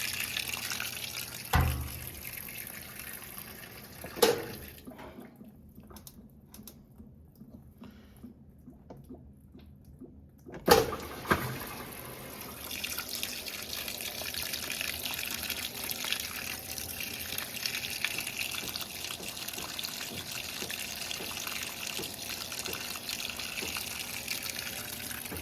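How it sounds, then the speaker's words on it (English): Hot water runs into a washing machine, a steady hissing flow broken by a pause and a couple of faint knocks, then resuming for a long stretch. "Yep, there it is, hot water."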